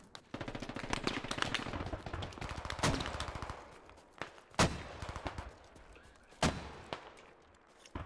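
Video-game gunfire in a military shooter: rapid automatic bursts early, then scattered loud single shots and short volleys, sharp and close, with no talking.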